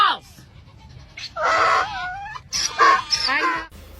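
A goat bleats in a farm garden, several loud wavering cries in quick succession, with a person shouting over and between them.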